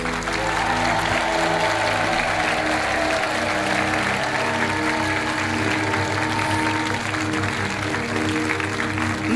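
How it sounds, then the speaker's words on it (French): Studio audience applause on the French TV game show Money Drop, a loud, continuous wash of clapping that runs for several seconds without a break, with a low musical tone beneath it. "je vous laisse repartir sous les applaudissements du public"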